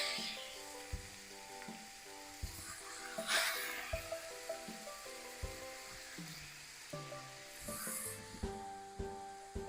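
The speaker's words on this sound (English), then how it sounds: "Now I'm going to add my broccoli rabe." Broccoli rabe going into a hot pan for chicken marsala, with quiet sizzling and frying under rhythmic scraping and stirring, plus some clinks and soft musical tones in the background.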